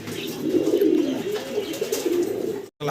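Pigeons of a large running breed cooing in soft repeated throaty phrases close by, with a brief gap near the end.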